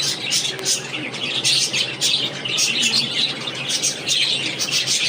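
A group of pet birds kept in cages at home chirp, squawk and call over and over from close by. The calls are busy and overlap the whole time, with a faint voice now and then.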